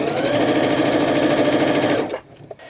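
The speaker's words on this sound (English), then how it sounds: "I'm sewing with my 1/2 inch seam allowance, and I slow down right as I get to the layers all combining" Sewing machine stitching a Minky cuddle-fabric throw pillow at a half-inch seam allowance, running steadily and loud for about two seconds before stopping, followed by faint handling noises.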